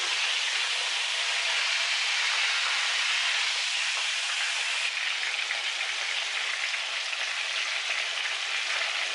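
Chicken frying in hot oil, a steady, loud, dense sizzle and hiss that runs unbroken throughout with no talking.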